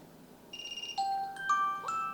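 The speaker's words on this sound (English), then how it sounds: "these are all the available tone for setting up alarm ringtone" A soft Vivo Y100 5G phone alarm tone plays a short chiming melody of rising and falling notes, alone in a quiet room.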